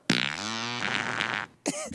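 A long, loud, buzzing fart with a wavering pitch runs for over a second, then a short second burst follows, heard alone with no talking.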